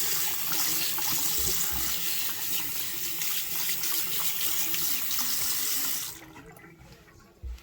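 Water from a faucet runs steadily and loudly into a bathroom sink as it is washed out, then cuts off near the end, leaving a brief quiet tail.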